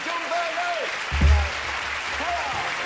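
Applause from a studio audience at a 1991 Big Break snooker game show, a steady wash of clapping behind an announcer's voice and a bright synth tune, with a brief louder swell near the middle.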